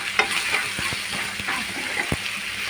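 Fish curry paste fries in a pan with a loud, bubbling sizzle, punctuated by several close stirring knocks and scrapes of a spoon.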